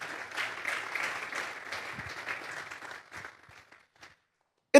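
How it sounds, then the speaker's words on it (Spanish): A church congregation claps for the Lord after a sermon, a broad wash of applause that fades out over a few seconds, ending in near silence. "Vamos a darle un fuerte aplauso pues al Señor."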